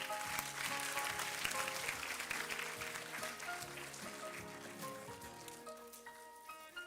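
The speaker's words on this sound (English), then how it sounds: "Let's please continue to clap." Audience clapping through a school Grade V scholar badge ceremony, steady and continuous, with musical tones running underneath the applause.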